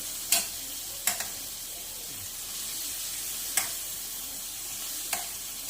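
Food sizzling steadily in a hot pan with a constant frying hiss, broken by four sharp utensil clicks against the pan as it is stirred, close by with no talking.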